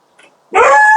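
Francine, a pet dog, gives one loud, close bark or yelp in the second half after a faint quiet murmur.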